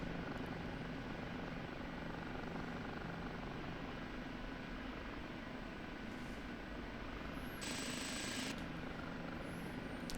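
OH-58D Kiowa Warrior helicopter climbing in the DCS flight simulator, a steady dense rotor and turbine roar throughout with no talk, a brief high whine surging near the end.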